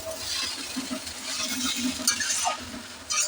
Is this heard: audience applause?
no